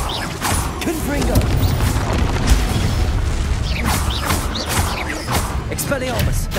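Confringo fire spell explosions during a Hogwarts Legacy battle arena fight, booming blasts and crashing impacts layered over constant combat noise, with a voice shouting spell names over the din.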